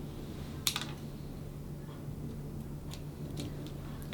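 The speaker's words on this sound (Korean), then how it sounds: "가위로 잘라주세요." Scissors snip the calyx stem off a preserved flower in a quiet room: one crisp, close cut, then a few lighter clicks over faint background hum.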